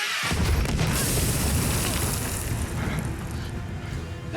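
Loud booming bursts from the booger bombs fired in the One Piece live-action series, a dense roar of explosions with crashing debris filling the whole stretch and no clear pause.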